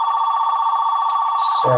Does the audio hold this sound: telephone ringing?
yes